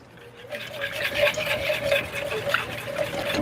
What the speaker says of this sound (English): So I'm just going to bring those together, whisk them together.